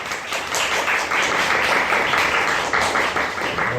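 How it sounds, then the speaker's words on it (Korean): Steady, dense applause from a large audience at a film screening Q&A welcoming the cast fills the whole stretch, loud and continuous without pauses. "큰 박수로"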